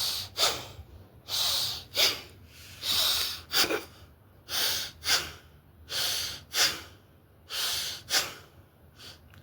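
Deep rhythmic breathing during a beginner yoga arm-raise exercise, about eight strong breath bursts in steady succession, close and loud with no talking.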